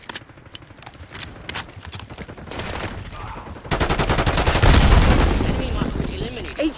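Rapid bursts of automatic gunfire and explosions in Call of Duty Black Ops 6 multiplayer, loud and dense, building into heavier sustained firing toward the end.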